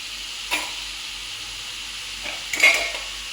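A radish yogurt chutney is stirred in a pan. There are two short scraping swishes against the metal over a steady low hiss, with no talking.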